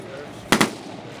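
An XM2010 rifle fires a single sharp report with a quick echo-like second burst, standing out clearly over a low background hum.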